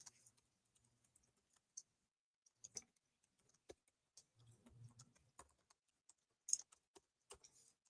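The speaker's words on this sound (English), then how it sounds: "I'm just typing up to find that article." Scattered bursts of keystrokes on a computer keyboard, faint and close, come in irregular clusters separated by short pauses, with no talking.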